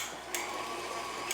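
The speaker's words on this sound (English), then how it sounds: "I'm going to put my mixer on" An electric kitchen mixer runs on high while mixing dough for Hungarian kolach, a steady whirring hum with two brief clicks or scrapes, close and alone.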